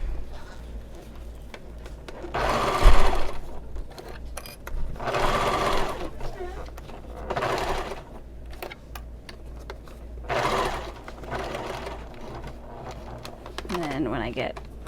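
A sewing machine stitches a seam on a Sweet Sunday bag in bursts of rapid, steady running, four or five close, loud passes separated by pauses with faint handling noise and a low background hum.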